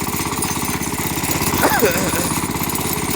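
A walk-behind tractor with winter tires chugs along outdoors in snow, its single-cylinder engine thumping loud and close in a rapid, even rhythm, with a brief squeal rising over it.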